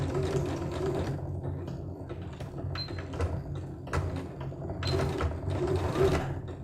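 A sewing machine stitches quilt fabric for a four-patch block in steady, close bursts of rapid mechanical whirring, with brief pauses and a back-stitch near the end.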